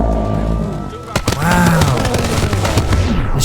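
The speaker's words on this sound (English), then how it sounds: "He's shooting on the ground." Rapid gunfire and impacts in the video game TABS as Wild West sheriffs and deputies fight off zombies, sharp close cracks over busy game sounds with a voice speaking.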